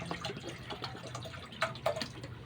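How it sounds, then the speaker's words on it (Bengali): Water splashes and trickles into a wok set on a lit gas stove, a soft close pour with a couple of brighter drips and splashes near the end and no speech. "কড়াতে একটু জল দিয়ে দিলাম"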